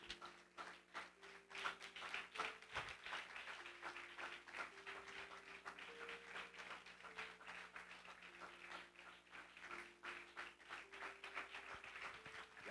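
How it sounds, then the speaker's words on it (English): A church congregation claps in steady rhythm during a service, the beats quick and even under sustained organ or keyboard tones, fairly faint and diffuse. "Keep on clapping."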